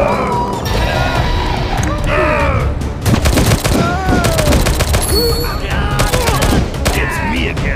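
Rapid gunfire in the offline shooter game GUN 2 crackles in dense bursts and volleys, loud and continuous, mixed with crashes and a shouting voice in the game.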